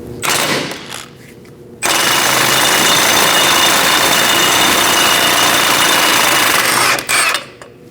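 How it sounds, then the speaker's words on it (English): A powered ratchet drives a 21mm socket to remove the front lower ball joint nut on a 2000-2006 Mini Cooper. It gives a loud, continuous rattling burst lasting about five seconds, with quieter shop noise before and after. "Using a 21mm socket, we're going to remove this nut and get the ball joint out of the control arm."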